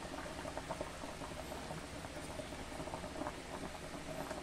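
A pot of rice boils steadily on a country-style stove, a dense, continuous bubbling and hiss that stays even and fairly quiet throughout, with no voices.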